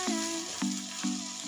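Potato and onion chutney with crushed peanuts stirring in a frying pan, three scraping strokes with a tonal ring over a steady background sizzle, close by, no talking.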